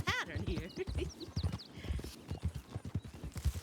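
Horse hooves clip-clop in a WildRP roleplay video game, a quick, fairly close rhythmic run of hoof strikes with a whinny near the start and people talking over it.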